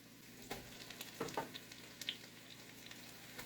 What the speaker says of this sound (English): You're going to go ahead and put your Italian sausage in.